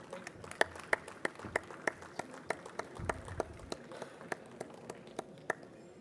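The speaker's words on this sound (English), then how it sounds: "please a huge round of applause for them" Scattered, sparse clapping from a small group at an annual conference, individual sharp claps standing out at an uneven rhythm, fairly faint and distant.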